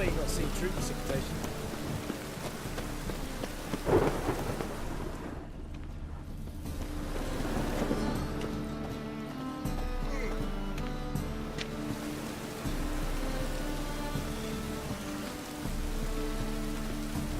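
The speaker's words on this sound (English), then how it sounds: "Call this rain?" Video game rain and thunder from The Witcher 3: Wild Hunt: steady rain patters on a surface throughout, with a low rumble like distant thunder underneath and voices speaking over it.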